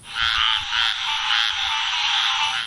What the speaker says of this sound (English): Even with the frogs.